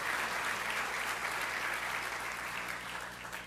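Sustained applause from a large audience at a university graduation ceremony, a dense wash of clapping at steady volume, easing slightly toward the end.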